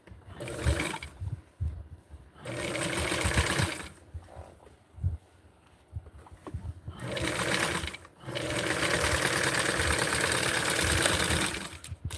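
A sewing machine stitches a doll's mod dress in several close bursts. Short runs alternate with quiet pauses before a long, steady final stretch of stitching.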